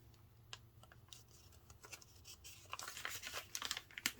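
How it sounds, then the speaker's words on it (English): Paper being folded and creased into a swallow-style paper airplane: quiet crinkles, taps and sharp pressing sounds that grow busier and louder toward the end, with no talking. "Now I can turn the paper over and fold this part of the paper down."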